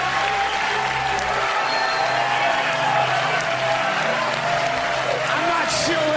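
An audience applauds at the close of a 2007 Doug Stanhope stand-up comedy show, a dense, steady wash of clapping from a large crowd that holds without a break, with some voices mixed in.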